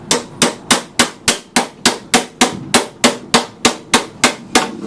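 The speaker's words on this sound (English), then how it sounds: "So we're going to hammer these." A body hammer strikes metal backed by a dolly on a Husqvarna 7021P lawn mower part, about fifteen sharp, ringing blows in a steady, even rhythm, close and loud with no talking.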